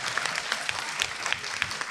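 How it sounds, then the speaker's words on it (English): Brief burst of applause for an honoree at a school board meeting, a modest group clapping steadily and close, with a few crisp individual claps. "If you could please stand up so we can give you a round of applause."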